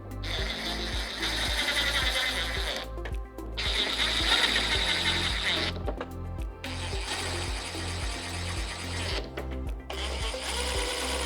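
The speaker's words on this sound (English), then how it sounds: "Simply slide it down and put your 4 screws in." Screws being driven in to fit the windshield on a 2024-2026 Harley-Davidson Street Glide Ultra, heard as a loud, steady mechanical ratcheting whir in several long bursts with short pauses between them, and no talking.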